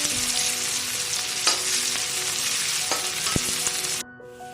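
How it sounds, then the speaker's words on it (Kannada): Onions frying in oil in a pan while making a yam dry roast, a dense steady sizzle with a few faint stirring scrapes, close and even until it cuts off abruptly near the end. "ಈಗ ಆನಿಯನ್ನು ಫ್ರೈ ಆಗಿದೆ."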